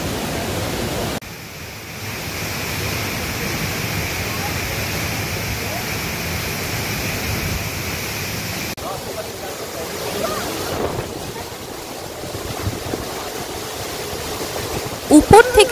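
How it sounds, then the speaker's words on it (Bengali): A powerful waterfall in Sikkim crashes down past large boulders, a steady, dense roar of rushing water that fills the whole stretch without a break, close and loud. "উপর থেকে জলের এই তীব্র গতি নিচের দিকে পড়ে এইভাবে বয়ে চলেছে"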